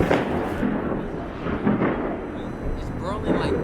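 Fireworks going off in Berlin, a string of muffled booms and crackling bursts at a distance over a steady street murmur, with faint voices in the background.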